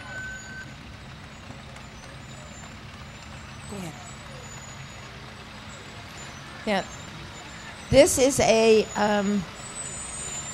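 A 7-ton military truck rolls through the 2012 Concord Christmas parade with a low engine drone, a short air-brake hiss and a few bursts of beeping, while people talk nearby.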